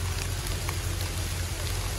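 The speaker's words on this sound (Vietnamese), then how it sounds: "giờ vẫn còn mưa" Steady rain falls outdoors in a young durian orchard, a dense, even hiss of drops on leaves and ground with a low rumble underneath and no breaks.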